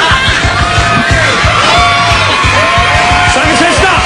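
Loud crowd yelling, whooping and cheering in a packed hall at a live Simon Says game event, with a dancer performing onstage; dense, continuous roar with shouted voices rising and falling throughout.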